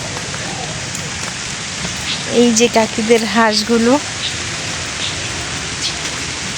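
Steady rain falls in a village, a continuous hiss on surfaces throughout, while someone speaks briefly partway through and ducks are nearby.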